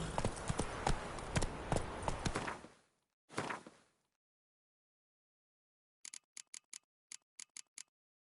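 Horse hooves clip-clop in The Witcher 3, a dense run of close hoofbeats that fades out, a brief burst, then after silence a faint, evenly spaced series of separate clops.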